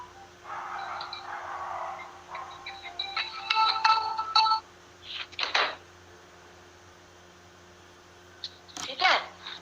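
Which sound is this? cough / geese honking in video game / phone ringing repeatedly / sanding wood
phone ringing repeatedly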